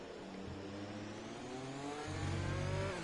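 An F2 race car in F1 2020 at the US Grand Prix drives through the final sector, its engine droning steadily with a rising, revving pitch that grows slightly louder toward the end.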